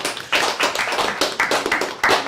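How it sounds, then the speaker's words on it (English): Students clap in a round of applause at an ISSA school tournament at ISL London, a fairly close, uneven patter of hands with a few louder bursts throughout. "So give yourself a big round of applause"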